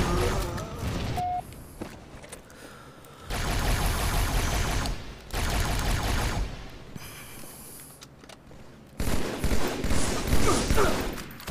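Rifle gunfire in a Halo 2 free-for-all match: repeated bursts of rapid shots in several loud clusters, broken by quieter gaps with faint movement, heard close.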